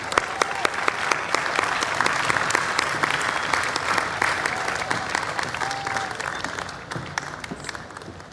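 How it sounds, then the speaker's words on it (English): Warm audience applause for Rosalia Arteaga Serrano, former president of Ecuador, at a large cultural festival in Washington DC, steady dense clapping that tapers off near the end. "Let's give her a big round of applause"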